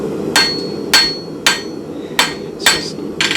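Blacksmith's hand hammer with a choked-up grip forging small steel stock into throwing spikes, six sharp ringing strikes at a steady, even pace, loud and close with no talk.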